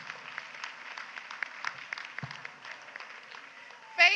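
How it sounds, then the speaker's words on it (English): Light, fairly faint applause from a small crowd at a Nigerian civil society meeting, scattered claps over a quiet room, ending with a brief louder burst of sound. "Please, can you give her a round of applause?"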